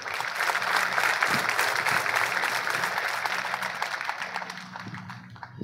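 Sustained applause from a large audience at a regional meeting, steady broadband clapping that holds for several seconds before gradually thinning out near the end.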